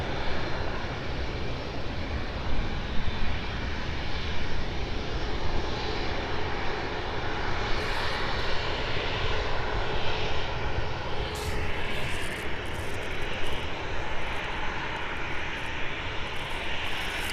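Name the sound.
aircraft taking off at airport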